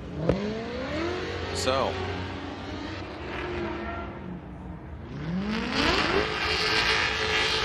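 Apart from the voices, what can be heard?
Toyota GT86 cars in a Formula Drift battle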